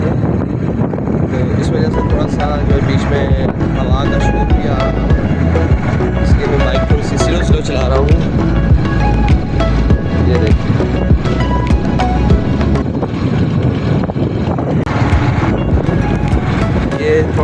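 Wind roars across the microphone of a moving motorbike on a ride out of town into the countryside, a loud constant rush heard beneath someone talking throughout.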